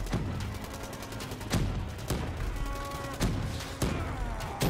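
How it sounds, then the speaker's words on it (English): Explosive grenade launcher fire in the Call of Duty: Black Ops III Dead Ops arcade mode, several loud broadband blasts at irregular intervals over dense continuous game noise and rapid gunfire. "Shoot the bulls with the grenade launcher."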